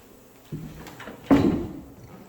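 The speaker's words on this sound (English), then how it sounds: "So we're going to go ahead and shut the door." A door in an abandoned asylum room is pushed shut: a soft bump, then a louder, close wooden thud that fades quickly, with no one talking.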